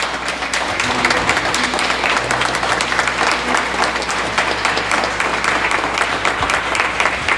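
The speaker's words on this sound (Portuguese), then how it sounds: "Aplauda ao Senhor" A church congregation applauding, a full, sustained roar of clapping hands filling the room evenly for several seconds, with faint voices blended underneath.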